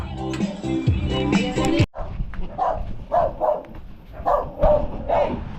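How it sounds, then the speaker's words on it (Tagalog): A dog barks repeatedly in short, agitated bursts at moderate distance, following a stretch of loud music that cuts off abruptly. "Galit yung aso."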